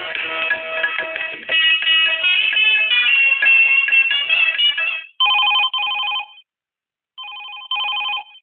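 A telephone rings for a call-in Chhattisgarhi folk song request show on Akashvani Raipur radio, a bright electronic ringtone. It rings steadily at first, then in short separated bursts with gaps of silence, loud and clear with no talk.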